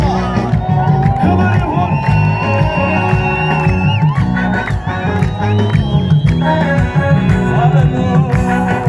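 Church congregation ululating and cheering during an Orthodox service, loud sustained high trilling cries and shouts layered over music and voices, with a short spoken phrase amid the din.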